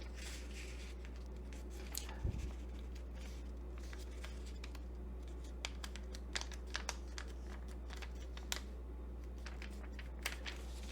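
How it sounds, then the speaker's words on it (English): Quiet crinkling of green origami paper being turned over and folded for a bunny rabbit, soft scattered rustles and light taps over a low steady hum. "turn it over and fold from one side to the other side"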